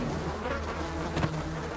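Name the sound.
buzzing flies in Filipino horror video game The Dreaded Hut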